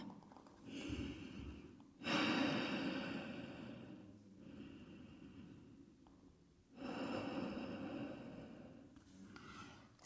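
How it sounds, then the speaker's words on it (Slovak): Slow, deep yoga breaths in and out, each long airy exhale or inhale separated by quiet pauses, close and alone. "Nádych, výdych."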